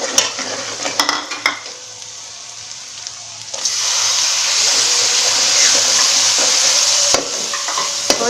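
Coriander powder, green chilies and tomato fried in a pan for degi chana pulao: sparse clinks and scrapes at first, then a loud, steady sizzle that swells after the ingredients go in, with no voices.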